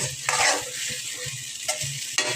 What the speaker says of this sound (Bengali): এখন আর একটু মেরে চেড়ে এখন টমেটো ভাজিটা নামিয়ে নেব